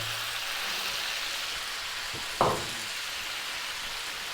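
Onions and lamb frying in a pan, a steady soft broadband sizzle running throughout with one brief clatter partway through, close and fairly quiet, no talking.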